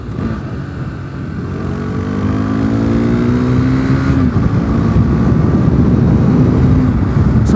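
A car passes nearby on a road, its engine note rising and sweeping past in a steady loud rush of engine and tyre noise, heard alone without talk.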